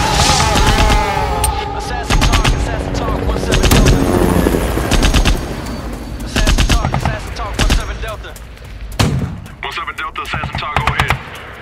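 Heavy machine gun and small arms fire crackle in loud, repeated bursts of sharp shots throughout, with overlapping volleys and irregular pauses, close and dense.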